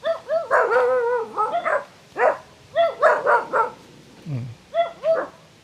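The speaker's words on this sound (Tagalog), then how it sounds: "Tsaka mga aso." Several dogs bark and yip repeatedly nearby in overlapping bursts, loud and excited, with a short growl in between.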